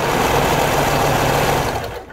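A serger running fast to sew a lettuce hem on knit fabric, a steady high-speed mechanical whir that holds for about two seconds, then trails off as the machine slows.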